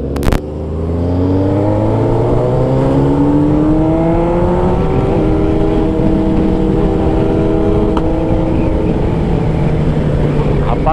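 A Honda CBR sport motorcycle engine revs up and holds a loud, rising whine, passing close by with a steady roar.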